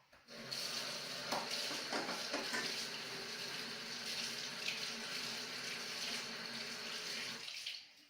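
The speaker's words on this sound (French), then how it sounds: "Le petit fouet, on va le rincer également." Tap water running steadily into a sink with light splashing and clinks as a small whisk is rinsed, close and moderately quiet.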